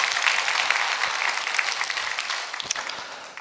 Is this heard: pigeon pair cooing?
no